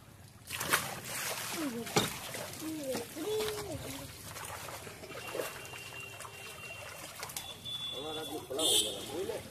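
Rohu and catla fish tumbling into a village pond, with scattered splashes and trickling water at close range under steady talk from people nearby.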